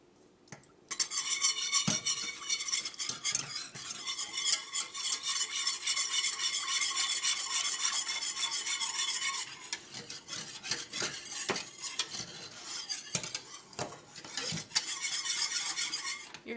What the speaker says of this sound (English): we're going to stir together the sugar and the cornstarch in the saucepan